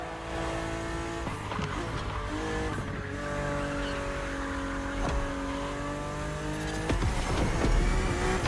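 BMW Z4 E89 coupe cabriolet driving hard in The Crew Motorfest, a loud sustained engine note rising and falling through gear changes, with tire squeals and skids.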